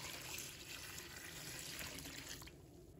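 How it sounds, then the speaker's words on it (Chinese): Clean water pours into a bowl to wash button mushrooms, a soft continuous splashing trickle, faint and steady, that thins out near the end. "倒入清水。"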